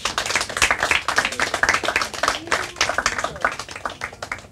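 A group gives brisk, scattered clapping for the third-place team at a quiz results announcement, steady and close with a faint voice underneath.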